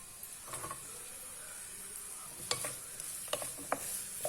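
Onion, capsicum and garlic sautéing in a pan, a soft steady sizzle with a few clinks and scrapes of the stirring spoon, fairly quiet and close.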